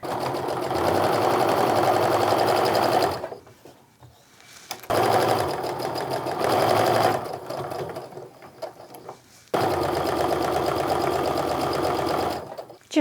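A sewing machine stitches a seam on a charm-pack quilted Christmas stocking, running in three steady bursts of a few seconds each, separated by short pauses.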